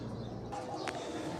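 An old pigeon that is blind in one eye coos once, faint and brief, over a steady low background hum in a home pigeon-breeding setting.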